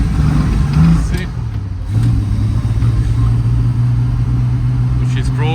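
A Triumph TR6 engine with a suspected over-rich mixture runs steadily at a low, uneven idle, close and loud, with a slight dip partway through and a voice speaking over it.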